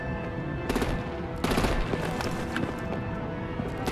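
Gunfire and artillery in the Batman: The Enemy Within video game, heard as loud bursts of rapid shots with a heavier blast midway, over a constant dense battle din with no speech.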